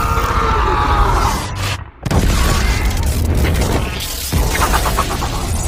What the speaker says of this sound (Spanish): de pronto, una explosión asusta a las Huntrix